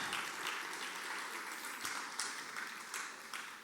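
Steady applause from a large church congregation, a continuous wash of many hands clapping at a fairly even level throughout.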